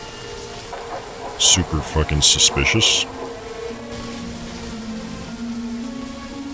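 Steady rain falls in the video game Remothered, a soft continuous hiss beneath a burst of louder clattering sounds and someone talking over it.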